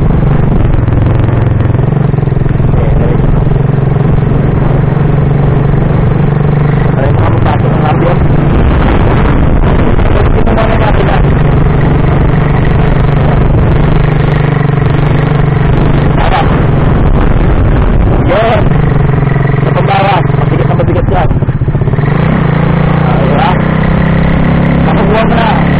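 A manual motorcycle engine revving during a first day of riding practice, a steady loud drone with rises in pitch, mixed with heavy wind buffeting on the microphone and voices talking over it.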